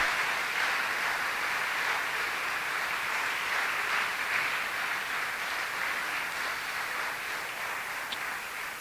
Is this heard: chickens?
no